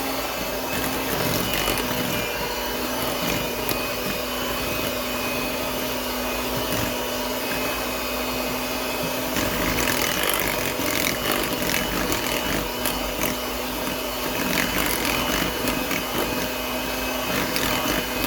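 Electric mixer beating zucchini bread batter, a steady loud whirring motor drone with scraping texture running unbroken throughout, no speech.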